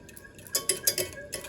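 A spoon stirs butter and milk together in a bowl for homemade cooking cream, with a short burst of close, quick clinking and scraping strokes and no speech.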